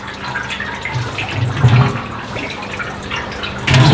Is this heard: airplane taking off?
no